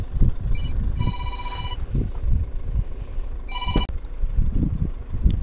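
A telephone rings with an incoming call: two short bursts of a bright, warbling electronic ringtone over a continuous low rumble.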